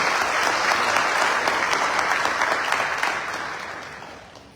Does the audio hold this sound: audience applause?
yes